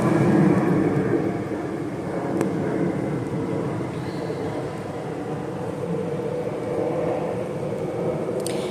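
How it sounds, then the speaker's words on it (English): A low, continuous rumble of distant traffic and an airplane passing overhead, steady and broad outdoors, with no one speaking. "the sound of all the stuff, like the cars and the airplanes"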